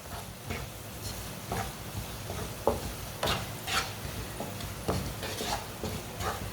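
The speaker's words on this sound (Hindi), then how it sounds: "मसालों को 1 मिनट के लिए पका लेते हैं ताकि मसालों का ना कच्चापन ख़त्म हो जाए" Spices cooking in a pan over a low flame for an egg dish, a low sizzle broken by repeated stirring scrapes and light clinks of a spoon against the pan, with no voice.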